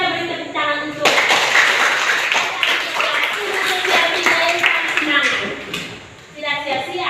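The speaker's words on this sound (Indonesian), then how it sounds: "Kita beri tepuk tangan untuk" Classroom clapping for a pupil, a burst of many hands from students and teacher that runs for several seconds, with a teacher's voice talking before and after it.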